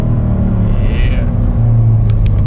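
A Chevrolet Camaro's engine rumbles close by, a loud, deep, steady drone that swells slightly toward the end.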